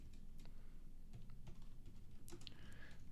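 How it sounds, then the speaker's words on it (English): Keys on a computer keyboard set off to one side are tapped in quick, irregular bursts, faint and close, with no speech. "I got my keyboard over to the side here, and it's not the best way to type."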